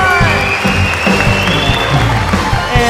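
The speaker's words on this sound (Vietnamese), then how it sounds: "Vỗ tay!" Crowd applause during a bolero duet performance, a continuous wash of clapping mixed with sustained music, bass and held tones, fairly loud throughout.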